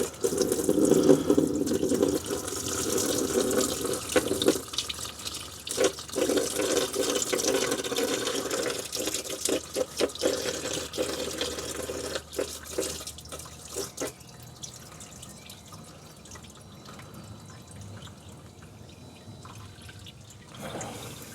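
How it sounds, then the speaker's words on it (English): Engine coolant gushes from a pulled hose on a Vauxhall Corsa into a bucket, a loud splashing pour that gradually thins into lighter trickling and drips. "as soon as I pull this large hose off, all the coolant's gonna drain out onto the floor"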